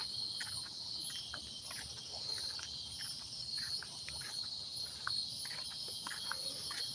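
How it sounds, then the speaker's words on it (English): A steady, high, shrill insect drone fills the air, cicadas buzzing continuously with a few faint ticks and rustles beneath. "you hear those cicadas?"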